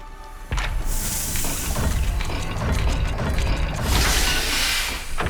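Puzzle dial mechanism turning in the Hogwarts Legacy video game, a sustained grinding, ratcheting clatter of gears with a hissy shimmer, starting abruptly and running for several seconds.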